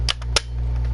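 Satsu DX Build Driver toy giving off a crackly electronic effect, two sharp popping bursts close together over a low steady hum, tinny and close.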